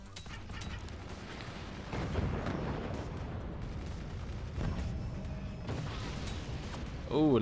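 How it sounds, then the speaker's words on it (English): Machine guns fire in the physics-based fort battle game Forts, amid other weapons. Rattling bursts and booming impacts keep up a steady, loud rumble, with a few heavier surges. "Oh, luxury machine guns, do ya?"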